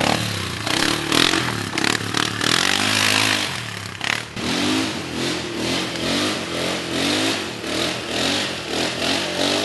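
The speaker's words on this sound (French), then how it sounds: "rien n'a l'air d'arrêter le Polaris de 800 cm3 pourtant rabaissé." A lowered Polaris 800 cc off-road vehicle drives through a muddy forest, its engine droning and revving loudly and continuously with clattering and scraping over rough ground.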